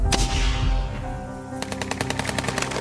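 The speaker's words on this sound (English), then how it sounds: "The gunshot startled all the nearby Taliban members." A loud sniper rifle gunshot with a booming echo, followed by a rapid burst of automatic gunfire in quick succession, in a war film.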